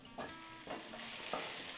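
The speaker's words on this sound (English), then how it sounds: "Once it starts sizzling, we can add the Cavolo Nero" Garlic and chili sizzling steadily in hot oil in a pan, with a few soft stirring scrapes every half second or so, close and fairly quiet.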